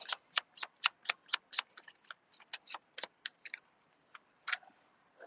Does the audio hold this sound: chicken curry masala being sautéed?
no